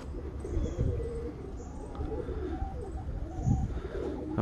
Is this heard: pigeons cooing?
yes